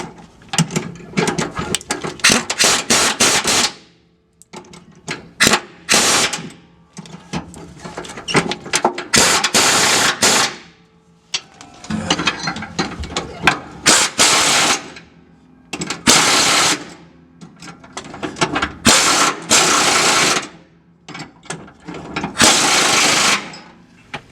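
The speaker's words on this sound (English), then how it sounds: "now we just need our impact and tighten them up a little bit" An impact wrench tightens trailer hitch bolts on a Trail Boss in repeated loud, close hammering bursts of a few seconds each, with short quiet gaps between them.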